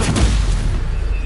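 Incendio fire spell cast in the Hogwarts Legacy video game on PS5: a loud, booming burst that rolls into a dense, roaring fiery rumble, heavy in the low end and sustained for about a second.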